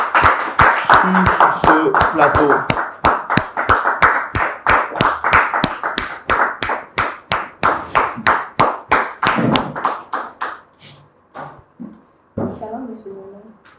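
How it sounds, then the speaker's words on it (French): Audience on a French-language TV talk-show set clapping in a steady rhythmic beat, loud and close. The clapping thins out and gives way to people talking near the end. "On les reçoit par des applaudissements,"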